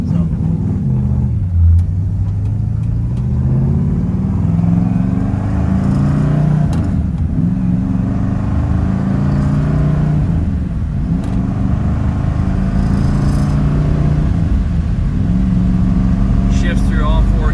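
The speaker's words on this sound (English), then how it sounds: "Pretty impressive for a tri-power car like that to just start up and run so good." A 1963 Pontiac Grand Prix with a 421 HO Tri-Power V8 and four-speed runs in a steady, deep rumble, its pitch rising and falling through several rev changes.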